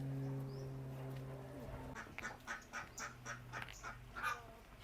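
Ducks, some of them black, quack in a quick run of short calls at an ecological park in Hyderabad, following a brief stretch of quieter background hum.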